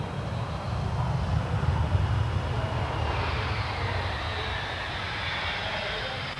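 A Hawker Siddeley Nimrod maritime patrol jet passes at the RAF Fairford air show in 1993, a loud, continuous roar of engine noise that swells and then slowly eases away, with no voices.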